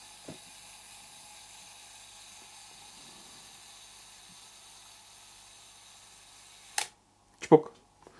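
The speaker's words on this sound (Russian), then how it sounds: "Также имеется жужжащий селфи-таймер," A Canon Canonet QL17 film camera's self-timer buzzes steadily for several seconds, then ends in a sharp shutter click and a few mechanical clicks, heard up close in a quiet room.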